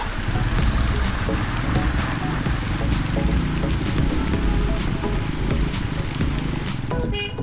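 Heavy rain pours down steadily, a dense roaring patter with drops drumming on surfaces nearby, continuing without a break.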